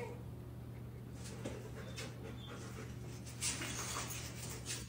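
Several dogs give faint, high whimpers and light panting over a steady low hum. The sounds are soft and a little distant and come in short bursts without a clear rhythm.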